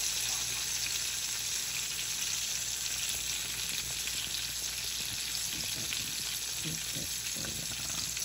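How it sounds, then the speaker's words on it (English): Fish fried in extra virgin olive oil, likely with a cornmeal and herb coating, gives a steady, close, dense sizzle and crackle that holds evenly throughout with no talking. "Y'all see that fish right there? Yes. It's getting fried in extra virgin olive oil as well."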